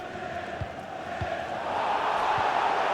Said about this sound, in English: The roar from the Banshees crowd of disapproval of the way this attack is going